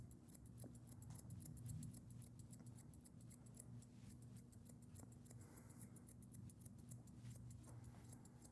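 Grooming scissors trimming the hair on a dog's face make quick, faint, repeated snips close by, scattered in an irregular rhythm over a quiet room hum.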